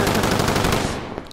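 Modern Warfare video game gunfire: a close, loud burst of rapid automatic fire lasting about a second, no voices.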